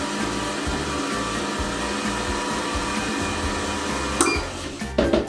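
An electric mixer on slow speed churns cookie dough for a Cadbury Mini Eggs recipe, a steady continuous motor whir that runs close and even before a few louder scraping bumps near the end.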